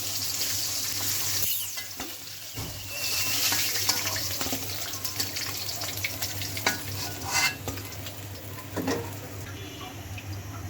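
Pangas fish frying in oil, a steady loud hiss and sizzle that runs throughout, close up, with occasional clinks and scrapes of a utensil in the pan.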